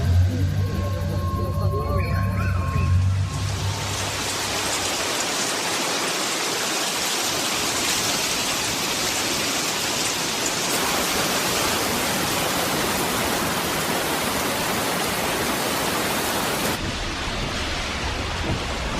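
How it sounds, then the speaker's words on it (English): Heavy rain from a typhoon, a loud, steady, dense hiss of downpour that fills the scene continuously after a short opening of other sound. "This is the first day of heavy rain."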